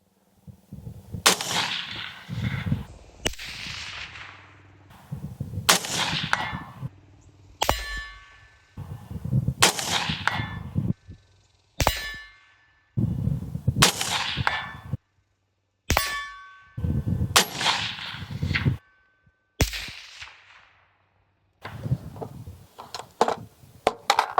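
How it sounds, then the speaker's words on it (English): Rapid rifle shots fired at a target 150 metres away ring out as a series of sharp, loud cracks with metallic clangs, grouped in bursts separated by short silences and with no talking. "now I'm going to take a couple rapid fire shots"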